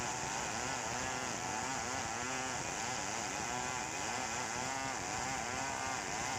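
STIHL 070 chainsaw running steadily in a forest, a continuous rough, buzzing engine drone with no pauses.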